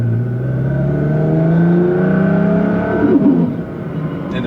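Loud 2014 Nissan GT-R with about 1380 wheel horsepower and all-wheel drive revving hard, its engine note rising steadily for nearly three seconds before easing off, heard from close range with no talk.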